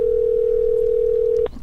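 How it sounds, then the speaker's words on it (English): A single steady telephone tone sounds during an outgoing call, a loud, pure, sustained ring that stops abruptly near the end, followed by faint line noise. "Usually if it rings 3 times, you know,"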